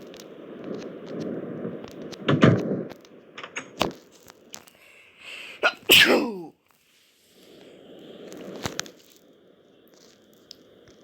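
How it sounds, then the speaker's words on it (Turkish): A sudden, loud sneeze erupts during an exam in a Minecraft classroom skit, preceded and followed by scattered clicks, crunches and low background noise. "Hapşurdum sınavda."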